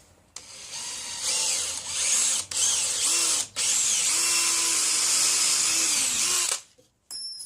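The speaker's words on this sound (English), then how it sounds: "I've got my 13 64th drill" A 13/64 bit drills holes in metal parts on a workbench, the tool whining steadily and loudly for about six seconds after a few brief starts and stops, then falling silent.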